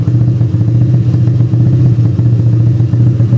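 Honda Beat carbureted motorcycle engine fitted with an NPP 55mm piston, idling loud and close with a steady, dense low putter and a fine mechanical rattle, no voices.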